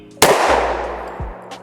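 A single loud pistol shot, an AREX Rex Zero 1 or Sig P226 fired at 5 yards, with a sharp crack followed by a long ringing decay and a faint metallic clink.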